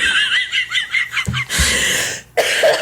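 A quick burst of coughs, followed by a harsh, breathy cough and throat noise, close to the listener.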